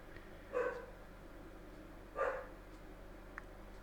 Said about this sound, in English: Of course my dog's barking, honestly.